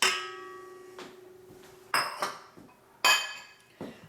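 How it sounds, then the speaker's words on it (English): Two eggs cracked into banana bran chia muffin batter in a mixing bowl, heard as a few sharp shell taps and clinks against the bowl rim, spaced apart, close and fairly loud, with no talking. "I'm going to add 2 eggs, you can see."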